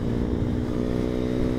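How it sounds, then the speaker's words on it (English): Husqvarna Vitpilen 401 single-cylinder motorcycle engine on a 2019 first ride, a steady close droning hum with a grainy low rumble, held at an even pace without clear revving changes. "I am so surprised with this engine right now."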